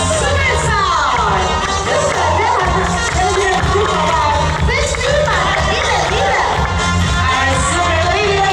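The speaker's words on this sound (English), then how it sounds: "Applause, applause, applause." A crowd at a dolphin and walrus show in Egypt cheers and claps loudly and continuously, with children shouting and excited babble throughout, under steady music and an announcer's voice.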